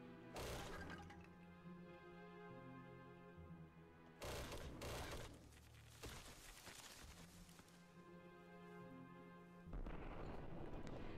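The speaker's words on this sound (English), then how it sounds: "there's random little explosions about all the time" Small random explosions in the video game Dragon Fin Soup burst out in loud, dense blasts about every few seconds over a steady game music bed.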